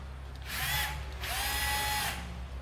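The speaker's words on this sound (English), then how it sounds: "Get hold of the screwdriver" A power screwdriver driving a screw into a sash window, two whirring bursts of about half a second each separated by a short pause, close and fairly clear.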